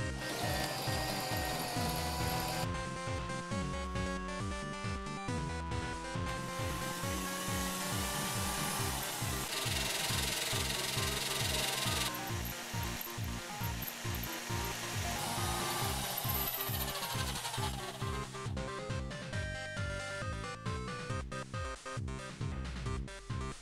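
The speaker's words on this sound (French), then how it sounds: "Il faut que je la perce au milieu dans toute sa longueur." A power drill with a long bit boring lengthwise through the middle of a screw runs continuously for over twenty seconds, a steady close whine with shifting pitch as it bites through the metal.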